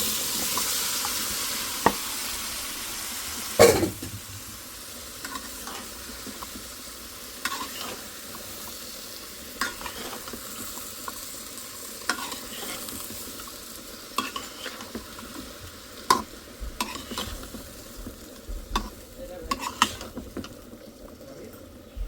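Bottle gourd curry with fish cooking in a pan and being stirred, a steady close sizzle with occasional spoon scrapes and clinks, moderately quiet, with no talking.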